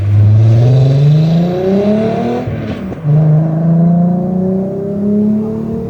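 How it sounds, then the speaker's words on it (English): A loud car engine revs hard, pitch climbing, dipping briefly, then rising again in a sustained roar close by. "It's not a fast car, it is loud."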